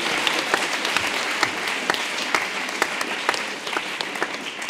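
An audience at a mock OSS 117 trial held at Sciences Po applauds, a sustained round of clapping with individual sharp claps standing out near the microphone over the crowd's steady wash.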